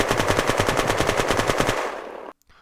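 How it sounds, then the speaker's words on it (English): A Zubekanov gun in the Unturned video game fires unaimed in a loud, rapid automatic burst of about twenty evenly spaced shots, close up, ending in a short decaying tail and then silence. "now let's try the Zubekanov, which notoriously has worse recoil than the maple strike"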